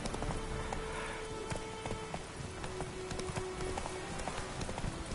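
Steady rain falling in The Witcher 3: Wild Hunt video game, a constant hissing wash with faint tapping and a few soft thuds, no voices.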